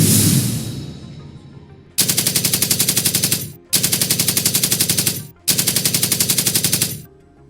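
Machine gun fire rings out as three loud, rapid automatic bursts of about a second and a half each, separated by short gaps, after a fading whoosh, as a sound effect in a Hindi comic audiobook.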